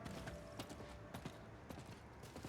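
Horse hooves clip-clop while riding a mount in Diablo 4, a steady run of sharp, evenly spaced thuds over a constant game soundscape, fairly close and clear.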